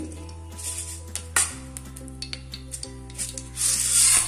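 Sago pearls frying in tempering oil for an Andhra buttermilk rasam, giving a close, crackling sizzle with scattered clinks of a utensil against the pan over a steady low hum, the frying swelling louder near the end.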